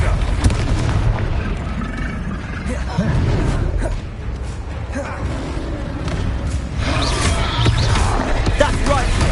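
Confringo spell blasts in Hogwarts Legacy on PlayStation 5, dense booming impacts rolling continuously under a voice shouting spell names, loud and layered with combat noise.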